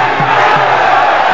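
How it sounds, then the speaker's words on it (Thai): Loud, sustained roar of fans cheering at Channel 7 Stadium in Bangkok during a Muay Thai boxing bout, a dense crowd noise that holds steady throughout. "เสียงเสียงเชียร์แฟน"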